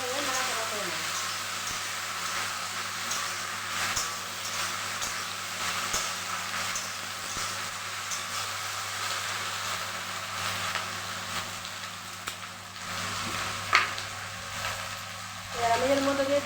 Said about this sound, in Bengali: গরম হয়ে গেছে, এবার কেটে রাখা ঢেঁড়সগুলো দিয়ে দিলাম।